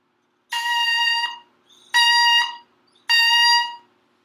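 Three bright, buzzy oboe-reed tones sound in turn, each held about a second and cleanly separated by short silences.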